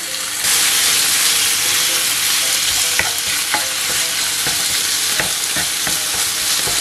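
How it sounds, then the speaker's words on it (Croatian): Chopped chicken drops into a pan of softened onion and bursts into a loud, close, hissing sizzle that keeps up throughout, with repeated sharp clicks as a spatula stirs and scrapes. "Ubacit ćemo zatim piletinu koju smo naseckali."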